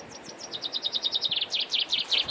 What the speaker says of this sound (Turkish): Şu anda şu da ağaçta bir tane kuş var. Çok güzel ötüyor.